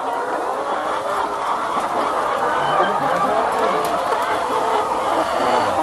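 Many laying hens on a large egg farm cluck and chatter in a dense, continuous flock noise, with a person talking under the din.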